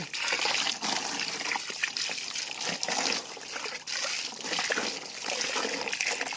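Water trickling and splashing steadily for several seconds as something is dropped into it, a busy wet patter at moderate level with no talking.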